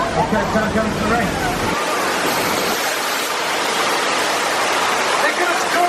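A loud, steady roar of rushing, cascading water floods the Universal Studios tour earthquake set, a dense wash of noise that drowns out crowd chatter and voices heard faintly at the start.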